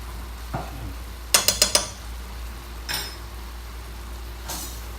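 A utensil stirs lamb, shallots, garlic and ginger in a pot, with a quick run of four sharp metallic clinks, a few softer scrapes, and a faint sizzle underneath. No one speaks.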